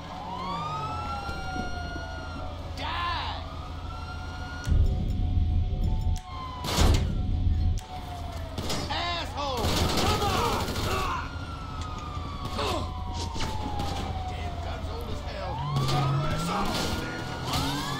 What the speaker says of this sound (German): Also Sirene ausmachen.